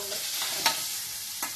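Paneer cubes sauté in butter in a pan, giving a bright, steady sizzle with two brief clicks of a utensil stirring them.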